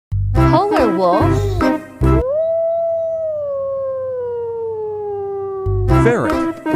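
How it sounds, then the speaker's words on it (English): A polar wolf gives one long, loud howl that slowly falls in pitch and holds steady for several seconds, with a voice talking before and after it. "Polar wolf."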